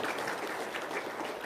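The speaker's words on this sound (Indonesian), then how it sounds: "Tepuk tangan dulu dong." An audience claps their hands together in a dense, continuous patter of many hands, fairly soft and even throughout, with no voices over it.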